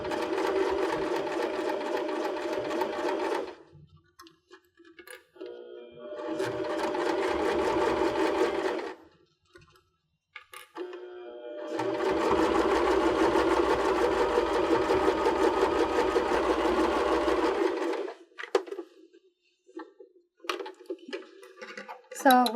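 Three bursts of a sewing machine stitching a cork strap onto a purse, each a steady whirring run of several seconds separated by brief pauses, the last and longest running about eight seconds.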